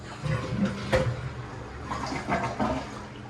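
Toilet flushing indoors during a house walk-through, a short rushing and gurgling of water heard close by with no talk.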